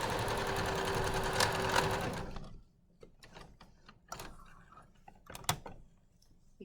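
A sewing machine runs steadily as it stitches gathered fabric along a double rolled hem. The whirring and needle clatter are loud and close for about two and a half seconds, then stop, leaving faint handling clicks and taps.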